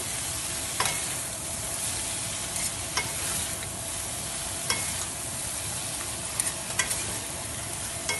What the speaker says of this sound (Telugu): మంచిగా కలుపుకోవాలి మొత్తం కింది నుండి